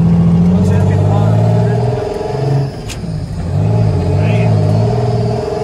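An International truck with a Detroit Diesel 6-71 turbo engine, also fitted with a supercharger, drives along with a loud, steady low rumbling drone that dips briefly and then swells again, while a voice calls out briefly over it.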